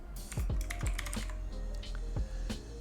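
Brisk clatter of keys on a computer keyboard, a quick run of distinct close taps followed by a few scattered strokes.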